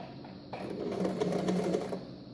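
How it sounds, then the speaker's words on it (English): A sewing machine runs in a steady, close, rapid stitching burst of under two seconds while sewing an elastic casing on a satin bonnet, then stops. "So now I'm going to sew, which is the casing for the elastic."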